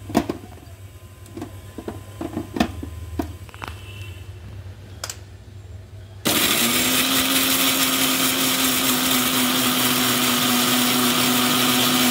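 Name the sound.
blender grinding poppy seed, mustard and green chilli paste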